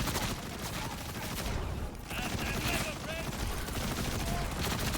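Rapid automatic gunfire from a low-recoil weapon in the video game Borderlands 4, sustained dense bursts of shots running through the whole stretch with a brief dip midway, under faint talk.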